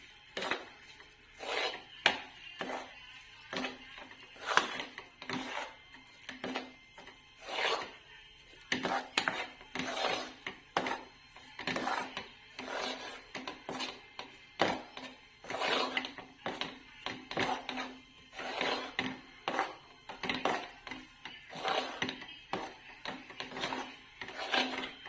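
Soft scraping and tapping of a spoon stirring a roasted peanut sweet mixture with ghee and cardamom powder in a pan, repeated steadily and close by with no talking.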